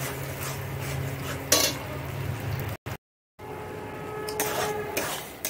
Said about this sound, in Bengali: দিয়ে ভালোভাবে কষে নেব